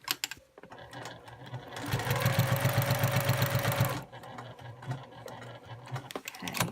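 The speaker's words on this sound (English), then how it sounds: "I'm going to continue quilting along that shape" A sewing machine quilting fabric runs in one steady, even burst of about two seconds, close and clear, with quieter handling noise before and after and no talk.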